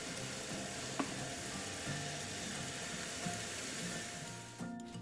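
Meat patties searing in a hot pan, an even, fairly soft hiss of sizzling fat that holds steady, with a couple of faint clicks from the pan and no speech.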